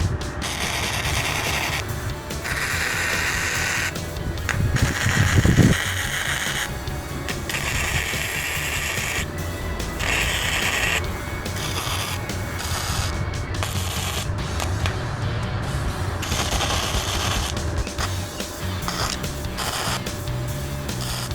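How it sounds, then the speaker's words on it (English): Flat bar is welded to a hand saw, a near, continuous crackling buzz broken by several short pauses between runs. "I'm now going to weld the flat bar, the saw, and the background together."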